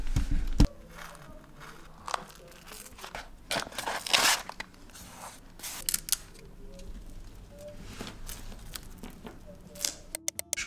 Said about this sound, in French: Maintenant il va falloir utiliser le cutter et couper ce qu'il y a en bas.